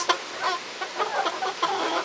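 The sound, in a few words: chickens clucking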